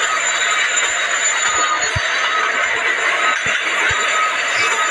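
A local train rumbles steadily through the Scarfall mobile game, a continuous loud rolling wash with faint intermittent low clunks from the wheels, and no talking over it.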